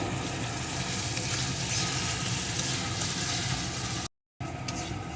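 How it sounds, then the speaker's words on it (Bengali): Spice paste with a pinch of sugar for potol kalia sizzles steadily in a pan, a dense, even frying hiss with faint stirring, close and constant, then cut off briefly before carrying on. "এখন মশলাটা আমি সুন্দর করে কষিয়ে নেব"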